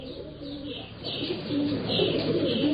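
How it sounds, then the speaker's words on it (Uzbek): A flock of pigeons coos in soft, overlapping throaty calls, steady and fairly close, growing a little louder toward the end against an outdoor background. "Bir to'p kaptarlar yenimizga kelib qo'ndi."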